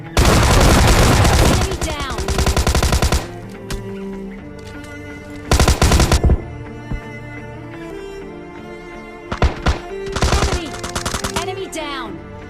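Gunfire in the PUBG Mobile shooter game comes in several loud, rapid bursts of shots separated by quieter stretches of in-game ambience and faint effects.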